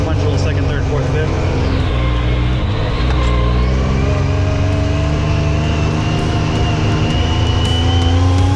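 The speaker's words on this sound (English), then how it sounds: "Just clutch in, pull down the lever for the sequential second, third, fourth, fifth." A Yamaha YXZ 1000R side-by-side with a sequential gearbox runs loud and close on a trail, its engine droning and rising in pitch through the gears, with a rough steady roar and no clear break between shifts.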